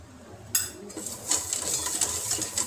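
Flour being stirred by the spoonful into a mixture in a pan over a very low flame, with light scraping and clinking of a spoon against the pan, soft and close, no talking.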